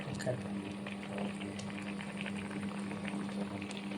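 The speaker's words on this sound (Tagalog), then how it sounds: "Papakuluan muna natin guys." Broccoli boils in a pot of water in a home kitchen, giving a steady, close bubbling hiss with a constant low hum underneath.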